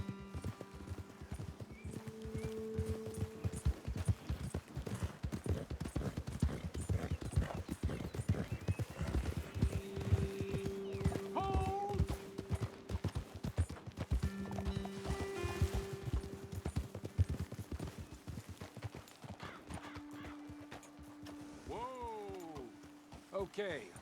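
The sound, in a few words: horses riding, from Red Dead Redemption 2 video game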